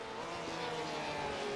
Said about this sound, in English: Just the Porsche sounds so nice, though.